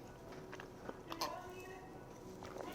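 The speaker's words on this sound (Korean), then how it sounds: "그런 곳에서 먹은 치킨 중에 제일 바삭한 것 같아요" Crispy fried chicken being bitten and chewed at a pub, with close crunchy bites and chewing scattered over a steady background of room noise.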